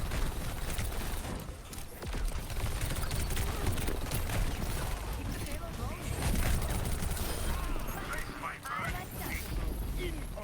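Rapid gunfire from Overwatch play, dense bursts of shots and mechanical clatter running continuously at a loud, busy level, mixed with game effects.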